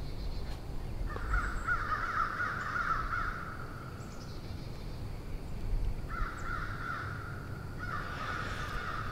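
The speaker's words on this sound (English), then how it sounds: "Them crows knew it was interview time." Crows caw around pine trees on Alabama public land in November, in two bursts of repeated harsh calls at moderate distance, separated by a few seconds of quiet outdoor background.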